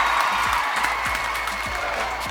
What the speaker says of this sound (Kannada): ಸೊ ಲಕ್ಕಿ ಅವ್ರಿಗೂ ಜೋರಾದ ಚಪ್ಪಾಳೆ ಬರಬೇಕು, ಸೀರಿಯಸ್ ಆಗಿ